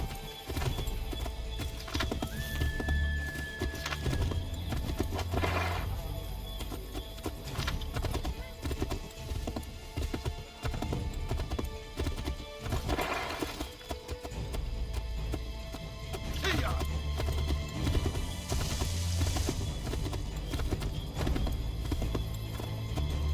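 Horse hooves clip-clop at a steady gait in the video game Assassin's Creed 3, with occasional whinnies, over a continuous bed of game sound.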